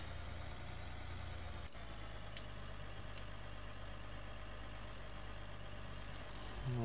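A tractor engine idles in a farming video game, a steady low hum running continuously at moderate level, with one brief click partway through.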